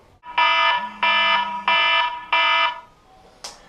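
Electronic alarm sound effect going off in four loud, evenly spaced buzzing blasts, each about half a second long, followed by a short chime-like ding.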